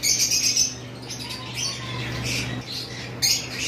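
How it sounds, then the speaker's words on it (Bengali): Albino red-eyed lovebirds in a bird shop give sharp, high squawks and chirps in short bursts at the start and end, with faint flapping and shop ambience between. "এইখানে একটা পেয়ার অ্যালবিনো লাভবার্ড রয়েছে, রেড আই।"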